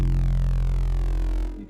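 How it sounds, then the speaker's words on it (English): Detuned unison bass from an Ableton Drift synth, a thick sustained low tone with swirling, beating harmonics, played alone and loud for under two seconds before cutting off. "it's going to create this richer sort of swirling, detuned sort of sound"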